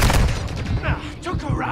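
A Semtex grenade blows up amid rattling gunfire in a video game, with several loud, booming bursts and shots stacked close together over about two seconds.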